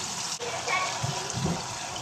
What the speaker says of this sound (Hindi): मैं इसमें थोड़ा सा पानी ऐड कर दूँगी